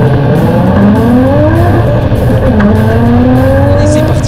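A Toyota Supra drifts at a French drift championship final, its engine howling loudly at high revs with rising and falling pitch sweeps and tire noise, the car close and continuous throughout.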